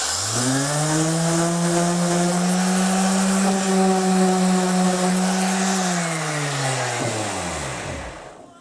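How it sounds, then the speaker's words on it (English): Power sander working a cut 40-tooth wooden gear, a steady loud whine that holds for several seconds, then winds down and fades as the tool stops. "Light bit of sanding."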